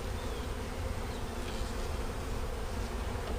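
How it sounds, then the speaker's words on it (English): Honey bees swarm around an opened hive during a fall inspection, a loud, dense, unbroken buzz of many insects close by and agitated, with no talk. "These bees aren't too happy."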